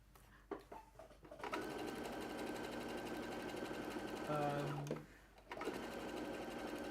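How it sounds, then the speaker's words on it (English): A sewing machine stitching a fabric bag, a steady close mechanical whir running for several seconds with a brief pause and restart, while a person talks over it. "while I'm sewing away here"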